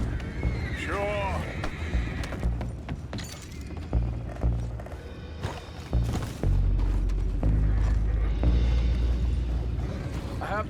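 Horses neigh and whinny in Red Dead Redemption 2, with hooves clip-clopping amid rumbling game effects and a low roar building later, as characters talk over it.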